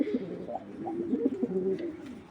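A Bangladeshi Giribaj pigeon, a breeder male, gives soft low repeated coos in a close, fairly quiet setting, the rolling calls coming in a steady run without talk.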